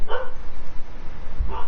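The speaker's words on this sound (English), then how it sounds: "if you can hear that, that's the dog" A dog barks a couple of times indoors, loud sharp woofs near the start and again near the end, separated by a quieter stretch of low room noise.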